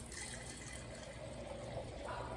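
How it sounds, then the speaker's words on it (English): Nighthawk Black red wine blend flows from a box spout into a glass, a close, steady liquid stream that runs without pause over a quiet room. "I could be pouring wine into a glass. It's wine."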